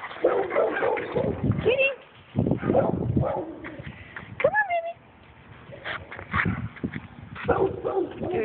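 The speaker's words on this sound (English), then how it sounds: "It's just a silly dog." A dog barks and whimpers outdoors near a truck while a cat is coaxed along; short yips and whines come through intermittently under a person's repeated coaxing speech.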